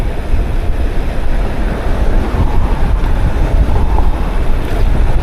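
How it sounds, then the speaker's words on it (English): Heavy wind buffets a DJI Osmo Action 4 action camera on a bike riding downhill in Toronto, a loud, continuous low rumbling roar with no speech. "So this should be a good test of the wind."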